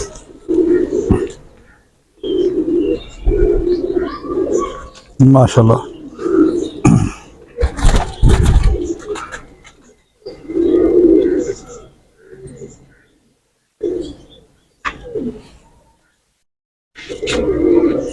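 Rooftop pigeons coo in short, throaty bursts, fairly close, broken up by someone speaking between and over the calls.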